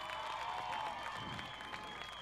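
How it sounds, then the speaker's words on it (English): Crowd applause in the grandstands at I-37 Speedway during a regular race program, a steady moderate wash of clapping that holds for the whole stretch with no talk over it. "Give him a big round of applause, ladies and gentlemen."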